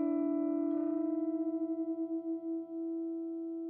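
A single sustained note from a Gibson Custom Shop Johnny A. Signature guitar with a quilt top, ringing steadily and slowly fading over several seconds with a wavering, pulsing tone and no voice.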